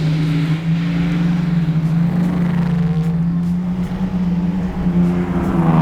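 A Ford Capri rally car drives under steady throttle with wheel spin, its engine droning loudly and evenly at close range with slight pitch wavers and no talk over it.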